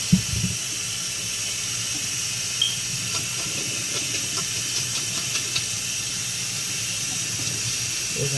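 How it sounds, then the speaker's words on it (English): Tap water runs steadily over smoked meat being rinsed in a sink, a constant close hiss with a few faint clunks and splashes and no talk. "Rinse your meat off real good."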